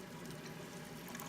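Steady rushing water filling a RODI filter canister, continuous and close, with no talking.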